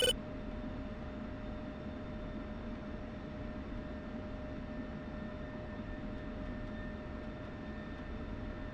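Steady jet engine roar from an aircraft in a flight simulator game over Syria, a constant even drone with a faint high whine, heard alone at low level throughout.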